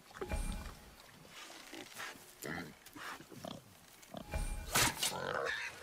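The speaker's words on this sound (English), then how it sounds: "Wild boar's hide is thick." Wild boar in the video game God of War, with short grunting, snorting bursts scattered through the clip alongside game sound effects and a voice speaking at moments.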